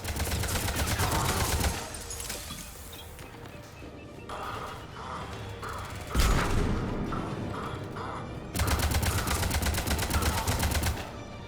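Rapid bursts of gunfire strike an escape pod in Mass Effect Legendary Edition, with dense automatic volleys at the start and end framing a quieter stretch of scattered shots and a sharp impact in the middle.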